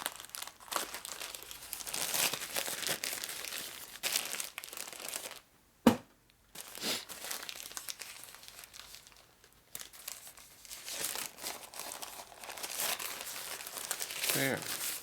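Protective packaging around an eBay-bought 1950–52 Panhead owner's handbook being peeled and torn away, with close crinkling and rustling bursts, a sudden tear and brief pauses, and someone talking at times.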